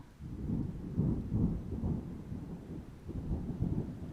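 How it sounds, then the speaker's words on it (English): Low rolling thunder rumbles outside during a rainstorm, a steady deep murmur with soft rain in the background, muffled and moderately distant. "Because of the thunder outside?"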